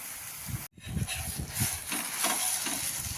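Uttapam frying on a pan, a steady sizzling hiss with soft stirring and scraping bursts layered over it, close up and continuous, with one brief dropout near the start.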